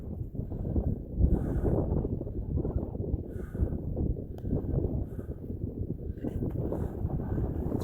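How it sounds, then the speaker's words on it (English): Strong, steady wind roars and buffets the microphone outdoors in the Emigrant Wilderness along the Pacific Crest Trail, a continuous low rumble that gusts throughout with no voices. "It's very windy."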